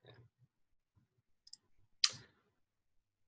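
Computer mouse clicks while working through document-signing software: a faint pair of soft clicks, then one sharper, louder click a moment later, in an otherwise quiet room.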